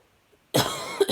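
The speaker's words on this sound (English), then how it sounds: "Excuse that horrible allergy cough." A single harsh allergy cough, close and loud, bursting out after near silence with a short rough follow-up.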